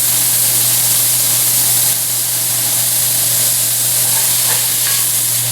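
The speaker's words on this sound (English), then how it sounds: "After the beef begins to brown, we add some of our onions and garlic." Beef with onions and garlic frying in a soup pot, a loud continuous sizzle and hiss with a steady low hum beneath, briefly shifting as food is stirred, no voices.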